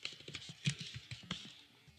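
Quick, soft keystrokes on a computer keyboard while entering text into a text box in Power BI, a brief run of light, close clicks with no talking.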